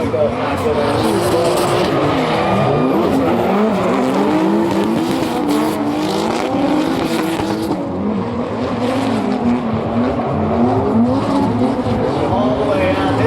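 Street-legal drift cars at a competition, led by an inline-six turbo BMW E46, roar continuously with revving engines and squealing, skidding tires, while an announcer's voice talks over the steady loud din.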